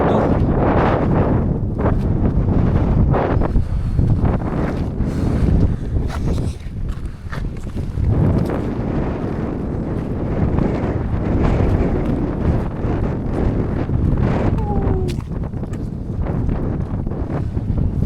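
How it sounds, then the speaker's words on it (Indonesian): Strong wind on the trail of Gunung Agung in Bali pounds the microphone in loud, continuous rumbling gusts with brief lulls, fully masking any other sound. "Anginnya keras guys."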